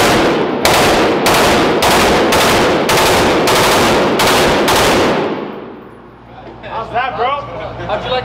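Real-life firearms modeled on Call of Duty guns fire about nine loud, evenly spaced shots in a steady rhythm; the bursts stop and people begin chattering nearby.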